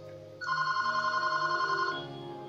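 A telephone rings in the background, a steady trilling bell tone that starts after a short pause, holds for about a second and a half, then stops, with no talking over it.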